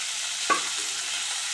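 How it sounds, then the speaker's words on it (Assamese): Beans and potatoes sizzle steadily in a pan over a lowered gas flame, a constant bright frying hiss with one brief stirring scrape near the middle. "এয়া আপোনালোকে দেখিবলৈ পাইছে বিন আৰু আলুখিনি ভাজি লাগি গৈছে"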